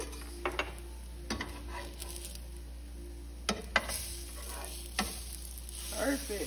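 Chickpea omelette batter frying in a pan for a vegan recipe, a faint steady sizzle with a few sharp clicks and scrapes of a utensil against the pan.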